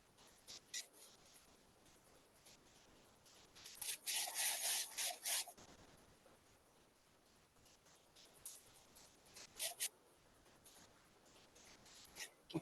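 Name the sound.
hands rubbing cracked heels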